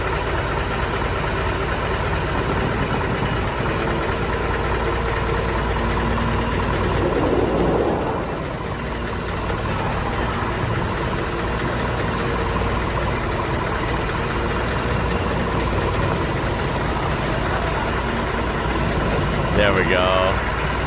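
Engine of a Tatra vehicle at a Tatra museum in Kopřivnice, a steady low idling rumble running continuously throughout, with people talking over it.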